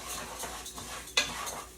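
Shrimp fried rice ingredients frying in a pan, a soft steady sizzle with light stirring scrapes and one sharp utensil clink near the end.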